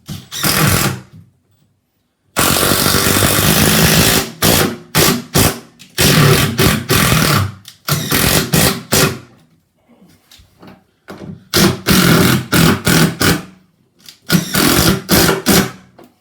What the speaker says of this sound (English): Always be aware what you're drilling into underneath.